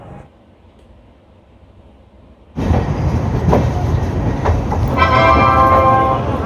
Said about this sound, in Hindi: हमारी मधुपुरिया हमसफ़र एक्सप्रेस पहुंच चुकी है उत्तर प्रदेश का सबसे बड़ा इंडस्ट्रियल सिटी